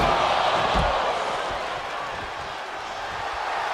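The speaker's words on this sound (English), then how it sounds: "The sound of this crowd is deafening, and he's asking for more." A dense, steady roar from the arena crowd in the WWE 2K23 wrestling video game fills the whole stretch without letup, with a brief thump near the start.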